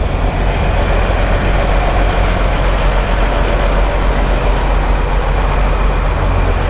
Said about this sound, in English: all these running trucks make some noise